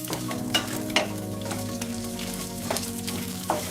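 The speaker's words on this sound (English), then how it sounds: "We are going to stir it so everything gets coated with oil." Rice is stirred through hot oil in a pan for Mexican rice, giving a steady close sizzle broken by several sharp scrapes and clicks of the spoon at irregular intervals.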